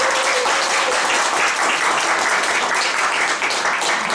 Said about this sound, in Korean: 우리 교단에 올라갈 때 박수가 길어야 좋습니다